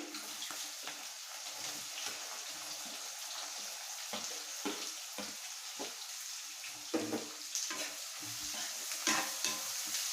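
Chopped onion frying in a pan for a Nellore-style fish curry, a loud, bright, constant sizzle with rhythmic stirring scrapes close by.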